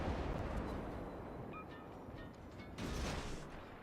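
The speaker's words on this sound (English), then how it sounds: "we're going to fire off guns first." Naval destroyer guns firing in a warship video game while engaging a Tier 2 American destroyer, the Samson, with a couple of deep, muffled booms over a steady rumbling background.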